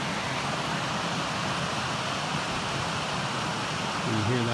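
Water of Kings Creek flows in a steady, broadband rush near a volcano hiking trail, a continuous close wash with no pauses and a faint low hum rising at the very end.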